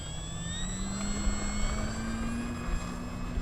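An FMS F3A Explorer RC airplane takes off, its electric motor whining in a steady, gradually rising tone over a rough rolling rumble, close and continuous without speech.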